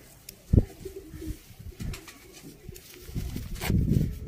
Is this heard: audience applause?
no